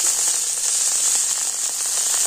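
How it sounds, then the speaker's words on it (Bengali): Chopped tomatoes frying in oil over a clay stove, a steady bright sizzle that holds evenly throughout at close range, with no talking. "টমেটোটাও তেলের উপরে আমি একটু ভেজে নেব।"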